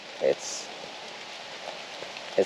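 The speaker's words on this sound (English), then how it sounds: "it's very, very windy now, and it's raining" Rain falls in a steady hiss with wind rushing over it at a woodland camp under a high-pitched tarp, broken by a couple of brief knocks or thumps.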